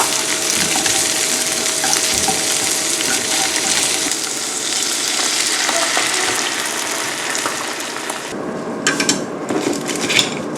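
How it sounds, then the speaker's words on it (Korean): Onion and garlic sauté in olive oil for a spicy buldak carbonara, making a steady, fairly loud sizzle with occasional stirring clicks that drops off near the end. "먼저 올리브유에 양파와 전인 마늘을 볶아줍니다."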